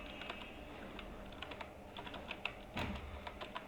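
Keys clatter in a steady run of quick taps on a computer keyboard, with a slightly louder burst near the end, close and alone with no talking.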